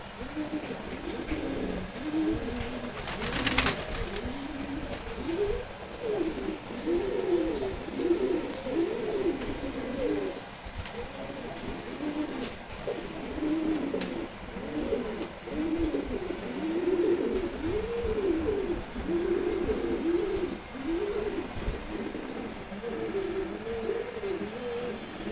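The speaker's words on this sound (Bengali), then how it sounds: "সিলভার গোরা কবুতর বেবি" A one-month-old silver gora pigeon chick cooing, soft repeated low coos in a steady rhythm close by, with faint chirps in the background and a brief rustle near the start.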